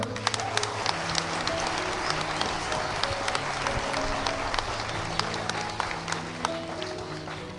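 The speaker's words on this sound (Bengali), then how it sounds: "হাততালি দাও।" An audience claps in a sustained burst of scattered, crisp hand claps with a steady tonal hum underneath, fairly even in loudness throughout.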